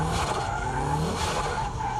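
A car drifts and skids through a corner on a wet road, with continuous loud engine and tire noise across the whole stretch and no talking.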